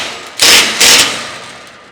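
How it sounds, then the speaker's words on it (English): A hammer strikes twice in close succession, pounding down the claw of a cat's claw fastener on a barn build, two sharp loud blows with a short ringing decay and no talk. "I'm going to take a hammer and pound down the cat's claw a little bit."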